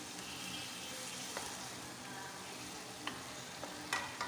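Shrimp sautéing with green mung beans in a hot pan gives a steady, close sizzle, broken by a few light clinks as the pan is stirred.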